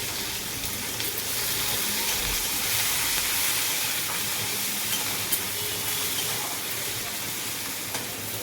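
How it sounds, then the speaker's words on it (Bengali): Onions fry in hot oil with five-spice seeds and green chili, giving a steady, close crackling sizzle with faint stirring scrapes. No talking is heard throughout. "তো পেঁয়াজটা ভাজা হতে থাক"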